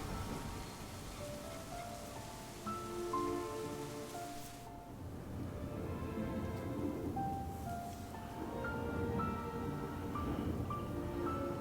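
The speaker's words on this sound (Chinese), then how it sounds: "市区下雨， 山区下雪。" Steady rainfall hisses throughout with a low rumble beneath, while faint tonal game music notes drift in and out over the downpour, in the video game Syberia: The World Before.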